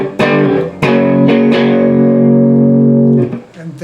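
Electric guitar picking a short rockabilly turnaround: a few quick plucked notes leading into a long ringing chord that sustains loud, then a couple of soft final picks.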